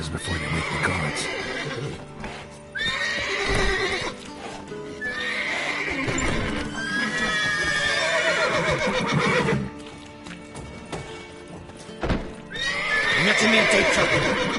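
Horses in the video game The Witcher 3: Wild Hunt neigh and whinny repeatedly, loud and close, with shrill rising calls overlapping through the clip alongside a faint clatter of hooves.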